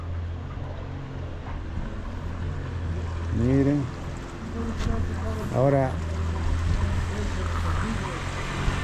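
Passenger motorboats at a tourist boat service in Colombia drone steadily under a voice addressing a crowd, with a low continuous engine rumble and water sounds close by.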